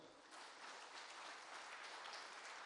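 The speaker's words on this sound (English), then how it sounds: "Clap your hands and praise the Lord." Congregation clapping hands during a Catholic healing service, a dense, even wash of applause that sounds distant and faint, running continuously without a break.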